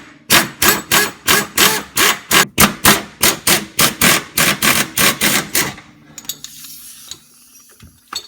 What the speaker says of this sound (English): now we're going to take out these bolts here that hold the lower control arm to the subframe air gun set at 90 psi